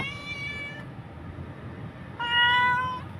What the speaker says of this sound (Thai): เมี้ยวเมี้ยวเรียกไว้สิ